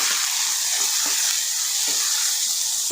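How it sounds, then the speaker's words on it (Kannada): Chopped onion and tomato sizzle steadily in hot oil in a pan, a continuous bright frying hiss with a few faint stirring knocks, close and alone with no talk. "ಈರುಳ್ಳಿ ಫ್ರೈ ಆಗಿದೆ ನಾಲ್ಕು ಟೊಮೊಟೊನ ಕಟ್ ಇದ್ದೀವಿ ಈರುಳ್ಳಿ ಒಂದು ಹಾಕಿದೆ ಟೊಮೊಟೊ ನಾಲ್ಕು ಹಾಕಿದ್ದೀನಿ"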